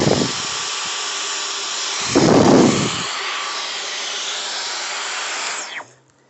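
A Dyson V15 Detect cordless vacuum cleaner runs with a loud, steady broadband whine, briefly deepening and roaring louder around the two-second mark before spinning down and cutting off near the end.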